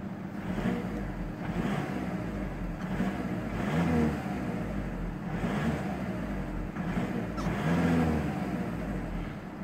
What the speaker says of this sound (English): let's go ahead and hop inside, do a few revs, and see how she sounds